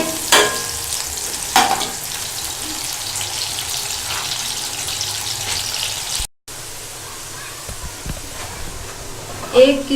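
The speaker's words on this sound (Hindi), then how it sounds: "चूल्हे का फ्लेम तेज करके हम प्याज ब्राउन कर लेंगे" Onions frying in a pan over a high flame for aloo matar, a constant sizzle with stirring clatters at times and one brief gap, close by, with someone talking over it.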